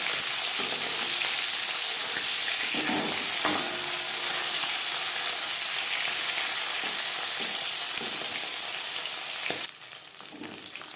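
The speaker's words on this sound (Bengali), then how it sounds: "জ্যান্ত মাছ আমি একটু হালকা করে ভেজে নিলাম" Bam fish, also called pakal, frying in hot oil for a spicy curry, with a steady close sizzle and crackle that runs evenly, a few brief spatters along the way, and a sudden drop in level near the end.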